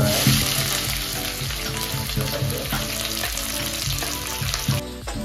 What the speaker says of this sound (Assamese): ইলাচি দালচিনি আৰু তেজপাতা অলপ পিঁয়াজ দিছে